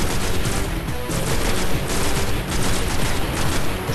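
Rapid, continuous automatic gunfire from the video game Destiny, loud and dense with no pauses, filling the whole stretch without talking.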